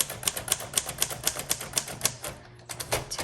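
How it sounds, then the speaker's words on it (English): Rapid, crisp keystrokes on a 1941 Royal Quiet Deluxe manual typewriter in brown crinkle finish, struck hard in a quick steady run close by, with a short pause before the typing resumes. "I'm actually kind of hitting the keys too hard. I'm used to typewriters that require more oomph"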